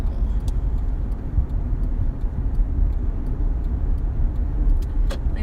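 Steady low road rumble and engine drone heard from inside a moving car, continuous and fairly loud, with faint ticking clicks over the top and no talking.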